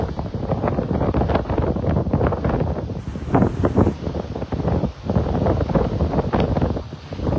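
Steady breeze buffeting the microphone on a beach at Delnor-Wiggins Pass State Park in Naples, a loud continuous rumbling roar with gusty swells and surf-like wash throughout.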